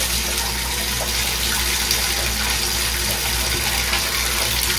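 Water splashes steadily as a young child plays in a bathtub during an evening routine at home, a continuous close wash of sloshing and dripping with no talk.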